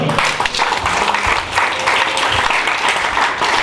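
A church congregation applauds and cheers the Lord during a consecration service in Belgium, dense steady clapping filling the room for several seconds with a few voices mixed in.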